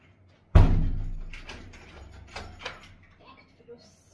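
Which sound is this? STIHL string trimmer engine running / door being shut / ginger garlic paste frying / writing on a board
door being shut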